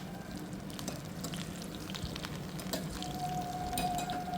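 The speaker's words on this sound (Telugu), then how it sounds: "అందుకే తక్కువ ఆయిల్ వేసి నేను ఫ్రై చేస్తున్నాను అనమాట" Prawns frying KFC style in a small amount of oil, a quiet, steady crackle and sizzle with scattered pops, close by and without talk.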